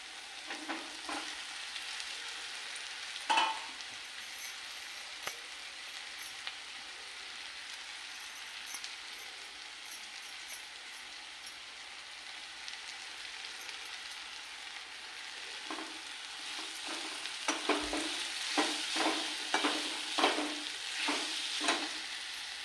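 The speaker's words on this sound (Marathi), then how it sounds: "आता आपण मॅगी टाकूया वरून" Maggi noodles with their masala tossed into a home kitchen pan, frying with a steady sizzle while a utensil stirs and scrapes in clustered strokes that grow busier toward the end. No voices.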